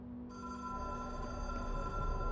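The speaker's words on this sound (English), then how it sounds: "Telephone is ringing." A telephone rings in the video game Control, a steady electronic ring with sustained tones over a low game ambience, fairly quiet with no talk over it.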